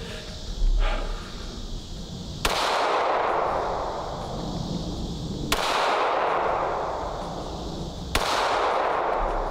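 A pistol fires three +P rounds, each a sharp loud report followed by a long ringing decay, spaced a few seconds apart, with faint handling noise before the first shot.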